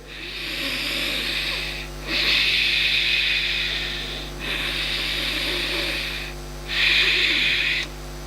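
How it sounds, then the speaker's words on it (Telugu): Pranayama throat breathing made to sound like a hooded cobra, four long rasping hissing breaths in a slow even rhythm with short pauses between them, close and fairly loud over a low steady hum. "పడగ విప్పే నాగసర్పం ఎలా శ్వాసిస్తుందో ఆ శబ్దము రావాలి గొంతులో"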